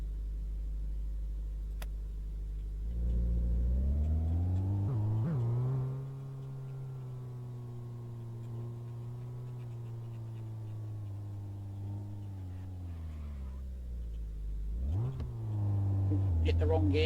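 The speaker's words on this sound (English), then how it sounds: "I'm just accelerating downhill without actually using the throttle and changing gear" Car engine in a garage game, coasting downhill without throttle and changing gear, a steady mid-pitched engine drone that rises and dips with gear shifts and revs, close and moderately loud.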